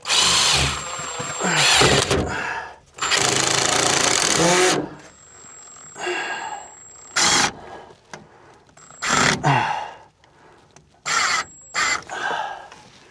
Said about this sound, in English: Let's see how much I can drive it in.